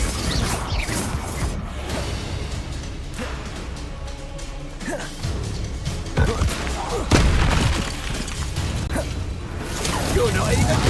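Spell blasts from Confringo and Bombarda in the Hogwarts Legacy video game, a run of booming explosions and whooshes in a busy battle mix with other voices present.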